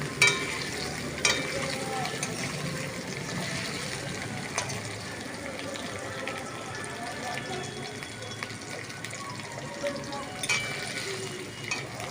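Salted potatoes fry in a pan, giving a soft, continuous sizzle with occasional clicks and clatters of stirring, while a voice speaks faintly at times underneath.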